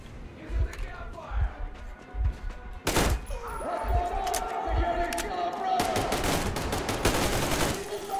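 Double-barrel shotgun blasts in the Metro Exodus video game, several sharp, loud shots spread irregularly across the stretch amid other in-game gunfire and impacts, with a voice talking over parts of it.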